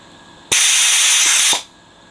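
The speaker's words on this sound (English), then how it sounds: "It actually runs on compressed air, so there's a crappy compressor running all this in the background" A compressed-air desoldering tool, used while rebuilding a 1970s stereogram radio chassis, lets out one loud, sharp hiss of air lasting about a second that stops abruptly, over a quiet background.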